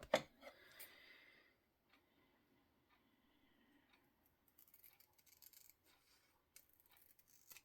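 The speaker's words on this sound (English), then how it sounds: "So we need to trim across the top." Scissors snip across the top edge of an index card, a few faint, quiet cuts and light paper clicks in a near-silent room.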